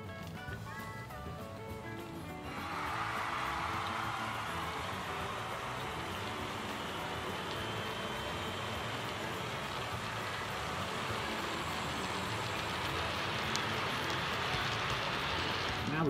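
A double-motored Hornby class 59 model locomotive pulls a full train of 19 loaded wagons around a corner and up an incline, its steady whirring motor and rolling wheel noise rising after a quiet start and continuing evenly throughout.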